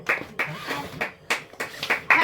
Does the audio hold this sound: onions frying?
no